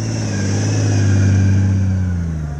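A motorcycle engine held at raised revs through a tight, slow U-turn, a steady mid-pitched drone that swells and eases slightly, close and loud with no talk.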